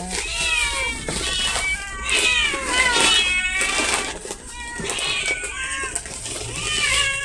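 Several pet cats meow excitedly and insistently at close range, their rising, overlapping cries continuing throughout with barely a pause.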